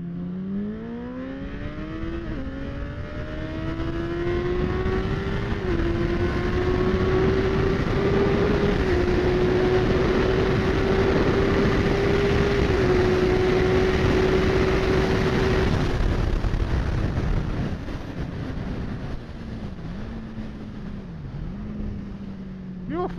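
A Ducati motorcycle laps a race track during a track day session. The engine note is close and loud, climbing in pitch, holding high through a long pull, then dropping back near the end.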